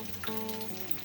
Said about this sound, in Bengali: এখন আবার মিডিয়াম টু লো আছে মাছগুলোর অপর পিঠও ভেজে নিচ্ছি।